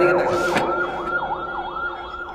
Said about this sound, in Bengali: ডানে কি অ্যাম্বুলেন্স যাচ্ছে